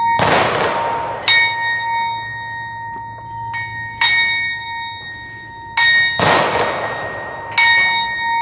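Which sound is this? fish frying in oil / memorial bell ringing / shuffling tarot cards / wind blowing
memorial bell ringing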